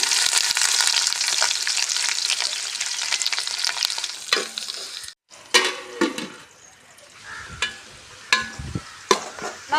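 Green chillies and onions sauté in a pot for a one-kilo mutton biryani cooked in a backyard, first as a dense continuous sizzle, then after a brief gap as scattered stirring scrapes, clinks and softer frying bursts.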